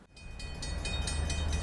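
A KiwiRail train led by DC and DXC diesel locomotives rumbles past close by at Garlands Road, Opawa, a low building roar with rhythmic clacking of wheels over the rails, growing louder over a couple of seconds.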